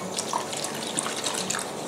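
Squeezed butterfly pea flower juice poured into a bowl of glutinous rice flour, rice flour and tapioca starch makes a steady, close trickling splash of liquid that runs continuously with no break.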